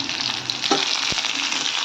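Small shallots frying with mustard seeds and crushed garlic in a pan, a steady close sizzle with a faint click or two.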